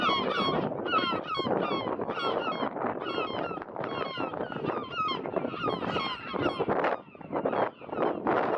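Young grey birds, large chicks, honking on the Lena River during a long trimaran expedition toward the Laptev Sea: loud, close, dense overlapping honks and calls that carry on without a break.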